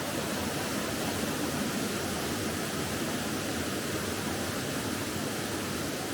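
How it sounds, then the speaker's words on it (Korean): A large, high-volume waterfall in a deep valley of a Mexican garden thunders as a steady, dense broadband roar, continuous and unvarying, with no other sounds over it. "멀리 폭포가 보인다."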